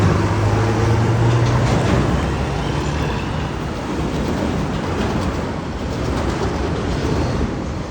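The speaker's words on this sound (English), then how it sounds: "Here's another truck coming in." A heavy truck rumbles in amid loud, constant traffic and engine noise on a street in Pyrmont, Sydney, a low droning roar that stays steady throughout.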